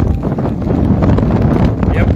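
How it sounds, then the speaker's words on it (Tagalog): Strong wind during Typhoon Enteng roars continuously into the microphone, a loud, dense buffeting with rain mixed in, heard outdoors near a burning ship at Navotas. "malakas o talaga hangin at malakas ang ulan nararanasan natin dito"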